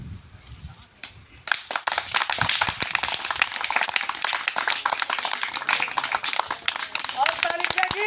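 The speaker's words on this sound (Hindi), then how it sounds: "हाँ जितनी तेज ताली बजेगी उतनी तेज ये राउंड लगेगा।" A group of people claps steadily and vigorously for several seconds, the dense clatter starting after a brief quieter moment, with voices and shouting mixed in over it.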